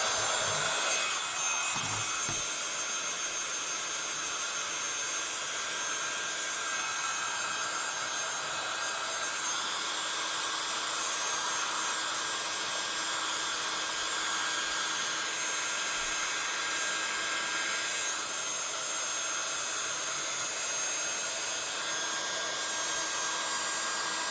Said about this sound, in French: heat gun ici. Alors attention, excusez-moi pour le bruit, ça va faire un peu de bruit.